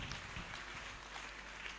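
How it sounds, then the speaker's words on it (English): Audience applause at a school SRC week quiz celebration, a steady wash of clapping throughout without a break. "Let's give him solid round of applause."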